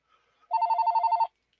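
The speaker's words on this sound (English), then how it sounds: "Getting a phone call" A telephone rings with an incoming call, a short burst of rapid repeated electronic trills lasting under a second, clear and fairly loud against silence.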